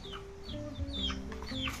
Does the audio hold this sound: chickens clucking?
yes